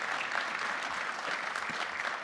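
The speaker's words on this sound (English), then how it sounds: "another round of applause for the panelists because I think they did a fantastic job" A conference audience at an electric-vehicle forum in Toronto applauds panelists, dense steady clapping from many hands heard from a moderate distance, unbroken throughout with no speech over it.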